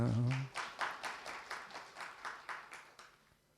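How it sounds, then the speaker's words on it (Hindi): A gathered audience at a spiritual class claps in a rhythmic, evenly spaced beat, about a dozen strong unison claps that gradually fade, following a brief voice at the start. "तालियां तो बजाओ जरा।"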